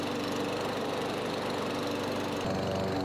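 A small lawn mower engine that sat unused for three years runs steadily and loudly, with a constant close droning hum and slight roughness, shifting tone briefly near the end.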